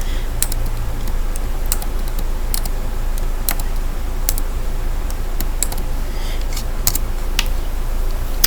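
Typing on a computer keyboard, irregular bursts of close, crisp key clicks over a steady low hum, with brief pauses between groups of presses.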